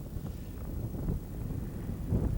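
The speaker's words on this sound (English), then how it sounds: "the gusting wind, which is making conditions incredibly cold out here" Gusting wind buffets an outdoor microphone in bitterly cold conditions, a steady low rumble that swells and surges in waves throughout, loudest near the end.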